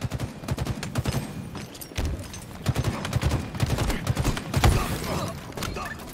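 Needler weapon fire in Halo Infinite multiplayer: rapid, dense bursts of spiky shots that continue steadily through the clip, loud and close, with game effects layered underneath.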